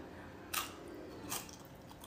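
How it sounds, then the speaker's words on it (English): Two crisp crunching bites into homemade microwaved cheese chips, close and distinct, spaced under a second apart over a quiet background. "Microwave some cheese, throw some spices on there, break it up into chips"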